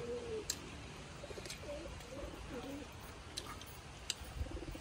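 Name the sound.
pigeons cooing as they land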